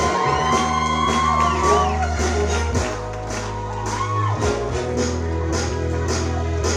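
Wedding guests whoop and shout over loud music as a bridesmaid enters escorted by the best man, cheers steady and close throughout.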